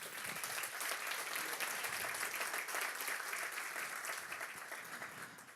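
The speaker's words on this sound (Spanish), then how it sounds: "Denle un aplauso al Señor." A church congregation applauds at the close of a prayer in a Sunday service: dense, steady, sustained clapping fills the room at moderate volume and eases off slightly at the end.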